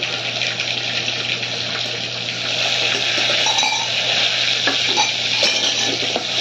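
Curry leaves and ginger-garlic paste sizzling hard in a pan for a simple dal, a loud, continuous crackling fry with light clinks of a stirring spoon throughout.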